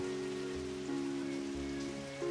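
Steady rain falls in a visual novel tennis game, a soft continuous patter under a sustained tonal music bed, with no voices.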